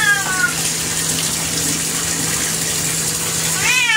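Running water pours steadily into a bathtub while a cat is bathed, a close constant rush with a short meow near the start and another at the end.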